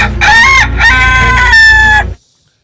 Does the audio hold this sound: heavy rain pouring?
no